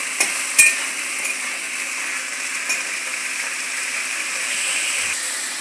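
Potatoes and pointed gourd frying together over a high gas flame, a steady broadband sizzle with faint stirring clinks near the start, continuous and moderately close with no talk.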